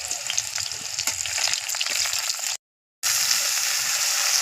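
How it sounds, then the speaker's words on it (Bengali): Onion, green chili and black cumin seed sizzle steadily in hot oil in a kadai, a dense, close frying crackle that cuts out briefly and resumes at full strength. "কাঁচা লঙ্কা আর পেঁয়াজ ফোড়ন দিয়ে দিয়েছি।"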